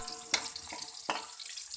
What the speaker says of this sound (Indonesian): Kita goreng sampai bumbu berwarna sedikit kecoklatan guys.